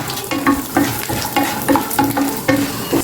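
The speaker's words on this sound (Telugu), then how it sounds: "ఇప్పుడు ఇందులోకి కొన్ని పల్లీలు వేసుకోండి. ఇది సిమ్లోనే వేయించుకోండి చక్కగా." Peanuts frying on a low flame for ravva pulihora, a crackling sizzle broken by repeated rhythmic scraping strokes of a spoon in the pan, close and fairly loud, no speech.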